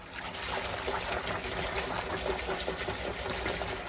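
Lukewarm water runs into a kitchen sink already holding dish soap, a close, continuous splashing trickle at low level with no voices.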